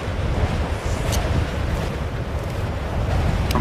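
Strong wind roars in a steady, loud gusting rush with low buffeting against the microphone, continuous throughout and with nobody speaking.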